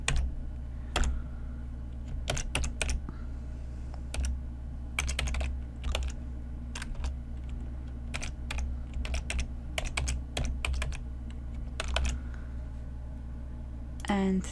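Rapid clicks of a computer keyboard as Excel VBA code is typed, irregular bursts of keystrokes with short pauses, close and crisp over a low steady hum.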